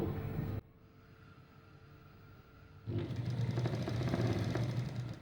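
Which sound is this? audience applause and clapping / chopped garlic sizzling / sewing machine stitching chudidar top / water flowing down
sewing machine stitching chudidar top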